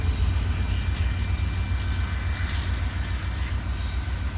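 A Norfolk Southern freight train rumbles steadily past nearby on the Dayton district, a loud continuous roar of rolling cars with low clattering and a faint high hiss over it.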